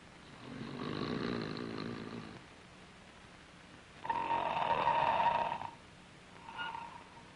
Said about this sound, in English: Must you snore?